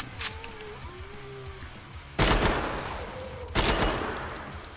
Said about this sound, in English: I should probably stop firing from the hip.